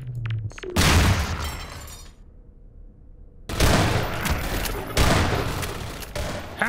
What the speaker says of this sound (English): Look out! It's got a grenade!